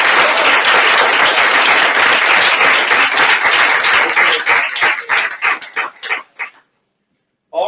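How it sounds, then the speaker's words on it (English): Audience applause after final presentations of a university 3D-printing-in-space engineering event, dense and loud for several seconds, then thinning into scattered claps before fading to silence. "Let's give a warm round of applause."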